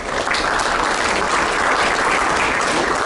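Audience applause at a Rotary Youth Exchange and Paul Harris Fellows award presentation, a dense, steady wash of many hands clapping together throughout, fairly loud and continuous with no talk over it.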